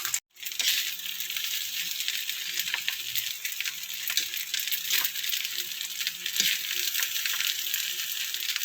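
An egg frying in a pan for breakfast, steady bright sizzling and crackling throughout with occasional small pops and clinks, close and continuous, no speech.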